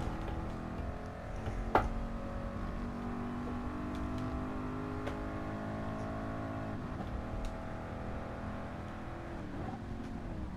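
In GT Sport at Le Mans, the Ford Mark IV race car's engine howls steadily, with a sharp click near the start and pitch dips as it shifts gears, sustained and close.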